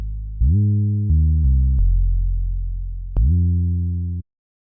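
A clean synth bassline plays a few sustained notes one after another, smooth and round, ending abruptly into silence.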